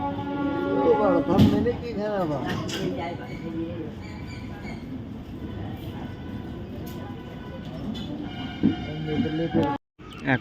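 A crowded Puri–Howrah superfast express train pulling out of Krishnanagar rumbles along steadily with rattling and clattering, voices chattering over the top throughout, with a brief dropout near the end.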